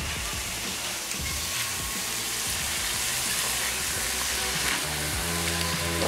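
Thin-sliced restaurant-quality steak for cheesesteak pockets frying in a pan, a loud steady sizzle and crackle with scattered pops, continuous throughout.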